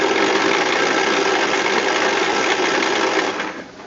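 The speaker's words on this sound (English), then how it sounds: "Now I'm going to crank the engine." A Kohler 16HP small engine on a shredder, freed up after being seized, is cranked by its starter: a loud, continuous whirring mechanical drone that holds steady for several seconds, then drops away at the end.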